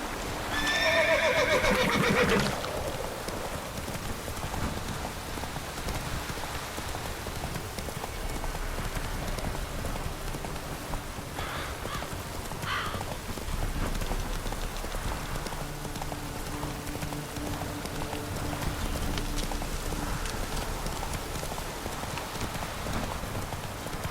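Roach the horse in The Witcher 3 whinnies loudly at the start, then gallops with steady clip-clopping hooves through a constant hiss of falling rain, all heard close with no talking.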